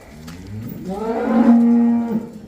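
A buffalo at a cattle farm lets out one long, loud, drawn-out moo that rises and then fades, heard close up and alone with no talk.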